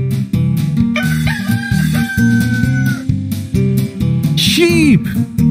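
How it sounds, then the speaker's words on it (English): A rooster crows once toward the end, a rising and falling call heard over continuous music with a steady low beat. "Rooster."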